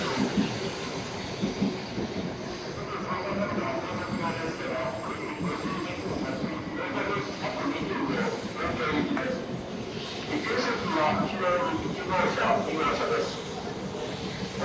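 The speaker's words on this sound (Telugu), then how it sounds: "so that is our bullet train incoming, Nozomi 120 train number" A Nozomi 120 Shinkansen bullet train pulls into a station in Japan with a steady, loud rush and rumble that builds slightly toward the end, with people talking underneath.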